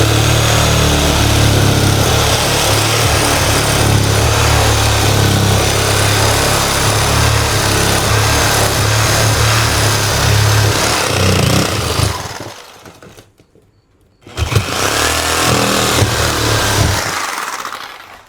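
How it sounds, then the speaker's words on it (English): Power saw cutting through a mobile home floor near a stud, a loud steady buzzing motor drone that runs continuously, cuts out briefly, then resumes before trailing off. "We'll take our saw."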